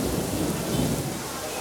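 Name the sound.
thunderstorm with heavy wind and rain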